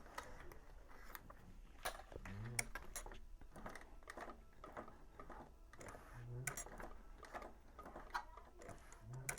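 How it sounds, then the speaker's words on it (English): A sewing machine turned slowly by its hand crank while stitching around a curve gives soft, uneven mechanical clicks and ratcheting ticks at close range, with occasional quiet talk. "I'm going to start hand cranking around this curve again."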